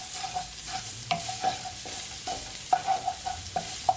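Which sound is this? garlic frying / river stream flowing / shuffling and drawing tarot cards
garlic frying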